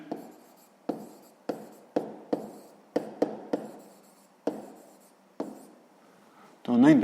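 Handwriting on paper during a sixth-grade maths exercise: a dozen short, separate pen strokes scratch out at an uneven pace, close and fairly quiet, ending in a brief louder rustle.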